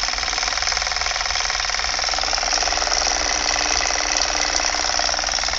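An AC motor driving a fan load runs at its top speed, about 1400 RPM rated, giving a steady, loud, unbroken mechanical hum and whir with a faint rattling vibration throughout, and no talking.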